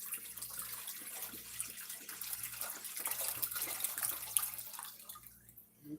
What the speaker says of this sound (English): let me pour this in here.